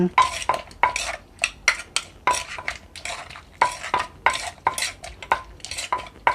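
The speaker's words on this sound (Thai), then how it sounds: "ตำเครื่องเลยค่ะ ตำเครื่องให้เข้ากัน" Rhythmic pounding of som tam seasoning in a mortar for a green papaya-style salad with long beans, pickled fish and makok, steady repeated thuds and clacks, close and alone without talk.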